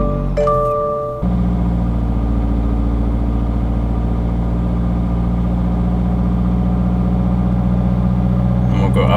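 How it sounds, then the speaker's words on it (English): A 2022 Subaru WRX with an AWE Touring catback exhaust cranks briefly, fires up and settles into a steady, loud, deep idle held at elevated cold-start revs, recorded close to the exhaust with no talk. "So we're going to go ahead and start the car."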